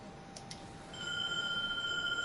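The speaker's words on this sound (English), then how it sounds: "Ringing old hunter bell." The Old Hunter Bell is rung in the video game Bloodborne. After a second of quiet, a clear sustained metallic chime rings out and hangs steadily to the end.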